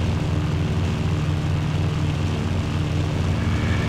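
Propeller warplane engine droning steadily in Battlefield 1, a loud, constant low roar with no pauses, heard in flight just after the landing gear retracts.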